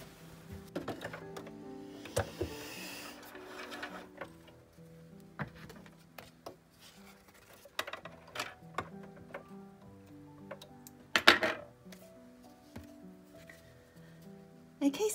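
A sewing machine stitches onto a paper tag for an altered-book journal, giving quiet, uneven runs of ticking needle clicks with short pauses and occasional louder mechanical clacks, close and alone.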